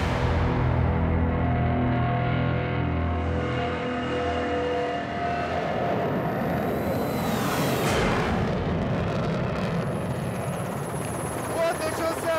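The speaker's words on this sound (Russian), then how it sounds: "Вот начался заход Су-30. Он идет как раз сейчас на наш вертолет" A Su-30 fighter jet flying aerobatics makes a close pass just beneath a helicopter, its brief rushing swell rising near the end over the helicopter's loud, steady rotor and engine drone, with voices talking throughout.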